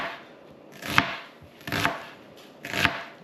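A knife chops green onion on a cutting board in three distinct, evenly spaced strikes, each a sharp close knock followed by quiet.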